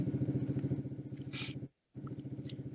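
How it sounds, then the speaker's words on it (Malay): A neighbour's motorcycle revs nearby in a steady pulsing engine throb, cutting out briefly, then resuming at a moderate, slightly distant level. "Ibu ayah dengar bunyi motor kuat tak?"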